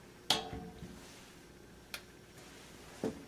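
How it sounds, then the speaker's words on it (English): On a Kenmore 80 Series washer, a faulty lid switch that barely engages gives a few faint, sharp clicks spaced about a second or more apart over quiet background hum. "You hear that little click?"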